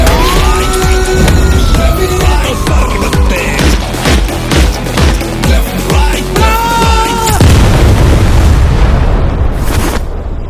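Trailer soundtrack for a crime action film: wailing sirens with rising and falling tones over heavy repeated booms and pounding percussion, loud and dense, cutting off abruptly at the end.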